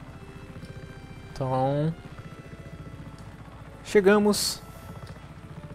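A helicopter in the video game Just Cause 3 keeps up a steady, low, pulsing rotor drone, with someone talking briefly over it twice.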